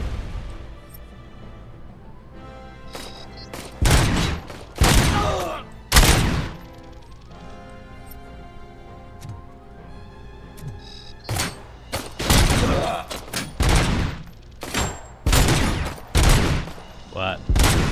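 Gunfire in the video game RoboCop Rogue City comes in loud, close bursts and single heavy shots, clustered in several volleys separated by quieter stretches of game ambience.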